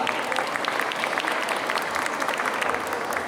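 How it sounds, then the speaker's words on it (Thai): Steady, continuous applause from a crowd at a K-pop cover dance festival opening in Thailand, many hands clapping at once, dense and even throughout. "ขอเสียงปรบมือนะครับ"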